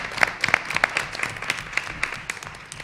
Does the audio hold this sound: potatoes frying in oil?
no